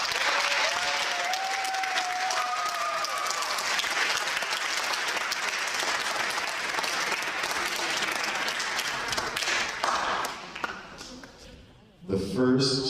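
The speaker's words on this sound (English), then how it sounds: "So a round of applause for all the seniors." A school auditorium audience claps for graduating seniors at a high school band awards night, steady applause throughout with a few voices and brief speech mixed in before it fades near the end.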